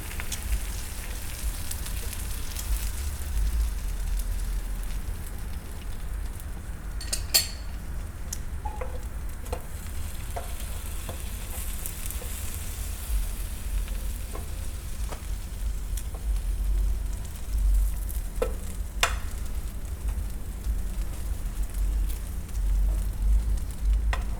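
Buttered bread toasts in a pan for a katsu sandwich, a steady soft sizzle and crackle running throughout with occasional small clicks and pops, close and without talk.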